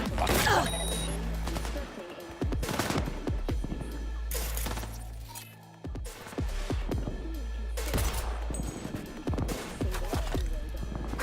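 Gunfire in the video game Cyberpunk 2077: loud, close bursts of rapid shots in several volleys with crashing impacts between them, over game voices and background ambience.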